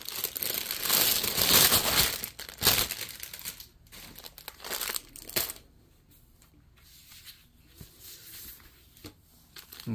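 Plastic packaging from a cross-stitch kit crinkles loudly and close in bursts of crackling handling, then settles into quieter, sparse rustles and soft taps with no talking.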